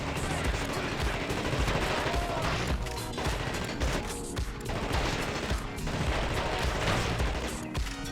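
Rapid gunfire bursts from the video game The Thing as enemies are shot in the head, loud, close, repeated volleys and machine-gun-like rattles over a dense game backdrop.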